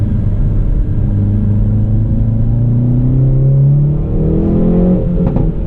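Hyundai Veloster N engine revving steadily under acceleration while driving, a loud close drone rising smoothly in pitch with road rumble underneath.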